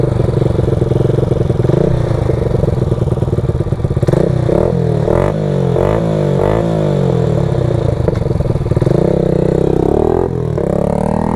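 An ATV engine idles roughly, then revs up and down in several loud, throaty bursts, close by, with clattering mechanical noise.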